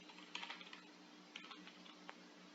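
Keys on a computer keyboard are tapped in short irregular bursts of soft clicks, faint and close, with brief pauses between keystrokes and no voices.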